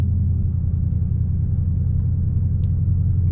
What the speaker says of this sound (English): I'm probably scaring all the wildlife away with my exhaust